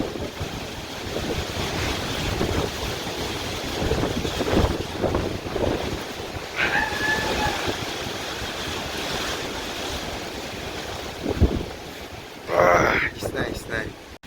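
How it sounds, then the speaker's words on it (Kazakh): Wind mixed with rain outdoors in the Khantau area: gusty, rushing wind noise buffets the microphone steadily, while people talk intermittently nearby. "Жаңбыр мен жел аралас"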